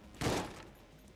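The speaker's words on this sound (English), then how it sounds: "We'll just shoot with the sawed off." A sawed-off shotgun fired in the video game Enter the Gungeon, a single short burst of blasts that quickly fades.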